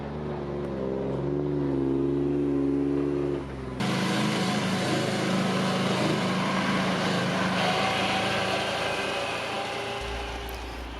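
An articulating dump truck hauling maple firewood on land being cleared drones with a steady, close diesel engine hum that shifts pitch as it revs and works, with clattering rattles over the engine toward the end.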